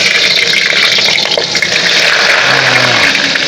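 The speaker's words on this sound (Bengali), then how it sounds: "এবার বেগুনগুলো ভেজে নেব।" Eggplant sizzles in hot oil in a pan, a loud, steady hiss that runs throughout with no pauses.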